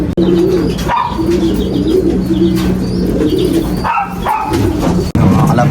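Several pigeons coo in repeated low, throaty phrases, steady and close, with faint chirps and rustling in the background.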